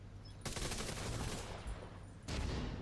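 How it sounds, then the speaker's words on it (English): Gunfire in the video game The Division 2 comes as two sustained rapid bursts of loud, dense shots separated by a short gap, close and alone without speech. "oh, I'm missing these shots, man."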